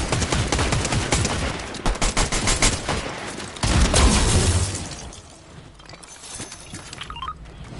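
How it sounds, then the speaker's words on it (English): Rapid gunfire in the video game Fortnite, bursts of automatic shots rattling loudly for several seconds before a heavier thud and a fade to quieter game ambience. "So they were shooting at somebody."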